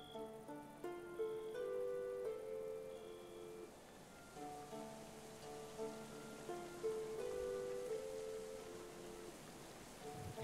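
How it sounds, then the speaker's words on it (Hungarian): Steady rain falling in a survival-building video game, a soft continuous patter running throughout alongside gentle tonal game music, with no talking. "Eső."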